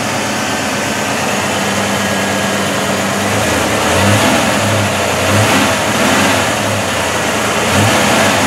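A car's engine starts and revs for the first time in over a year, fitted with SN95 disc brakes. It holds a steady loud idle with a few rising rev bursts, near and continuous, and no talk.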